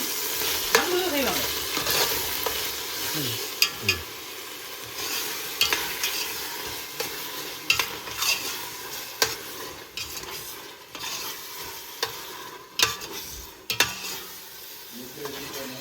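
Masala sautés in an oiled pan for biriyani in a bachelor-room kitchen, a constant sizzle broken by repeated scraping stirs and sharp clanks of a ladle against the metal.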